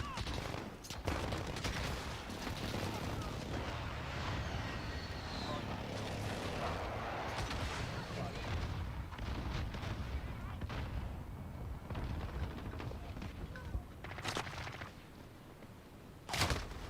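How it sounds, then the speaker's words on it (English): Loud, continuous battlefield barrage of explosions and gunfire from an enemy airstrike in a multiplayer shooter video game, dense rumbling blasts filling the whole stretch with occasional sharper bursts, a player's voice speaking briefly over it. "Enemy airstrike. Get down."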